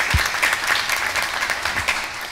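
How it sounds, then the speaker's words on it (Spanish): Audience applause at a session on women's political participation in local politics: a steady, dense wash of clapping from a crowd that holds at an even level throughout, with no speech over it. "Luis Miguel Santibáñez Suárez, a quien también solicito un caluroso aplauso."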